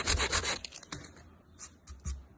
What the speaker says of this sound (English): I just got a little piece of sandpaper. Go the same way as the wood is.